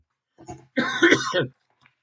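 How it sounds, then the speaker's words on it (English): A brief throaty cough, then a harsher cluster of coughing and throat clearing, close to the microphone in an otherwise quiet room. "about the coughing and the sniffling"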